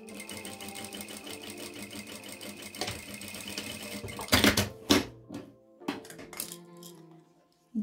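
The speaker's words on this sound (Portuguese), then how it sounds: "E agora aqui eu vou passar uma costurinha reta. Diminui o ponto da máquina um pouco." A sewing machine runs a straight seam on a Suki wallet with a shortened stitch length, a fast steady needle rattle for several seconds, then short stop-start bursts with small clicks.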